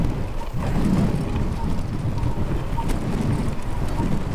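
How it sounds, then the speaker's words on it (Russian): Strong wind roars into the microphone of an e-bike riding into a headwind on the rocky Asy plateau, a steady dense buffeting rumble that holds loud and continuous throughout with no clear talk. "Как вы видите, ветер не слабенький"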